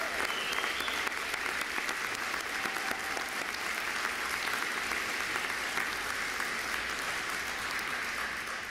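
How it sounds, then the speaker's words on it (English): A large audience at a fall graduate school commencement ceremony at UW-Stout breaks into sustained applause, a dense, steady roar of clapping that holds evenly from start to finish without a pause. "let's show one more round of applause for everyone here"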